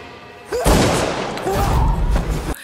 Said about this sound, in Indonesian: Raden Aryo kembali mendapatkan serangan dari Susana dengan senapan yang ditembakkan tepat mengenai kepala Raden Aryo